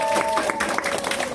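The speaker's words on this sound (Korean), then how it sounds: "저희 토요일날 특별 뷰티 클래스, 오픈 뷰티 클래스를 큰 박수로 시작하도록 하겠습니다." An audience claps to open a special Saturday open beauty class, dense and continuous applause from many hands, fairly loud and close, filling the short moment with a steady crackle of overlapping claps and a faint sustained tone beneath.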